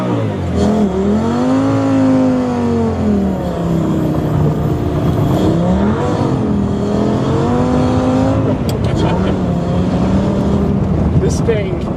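A Lamborghini accelerating hard on a snowy road in Summit County, Utah, with traction control switched off, its engine rising and falling through repeated revving surges, loud and close, with a voice speaking over it.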